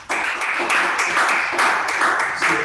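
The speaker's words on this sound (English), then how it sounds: "we round of applause for him" Audience applause at a press conference launching e-payment certifications: dense, steady clapping from many hands fills the room for nearly three seconds, loud and even with small surges, with no voices over it.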